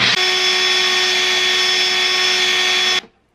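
A blender grinds dried coconut into coconut butter, a loud steady motor whine running continuously before cutting off abruptly into silence.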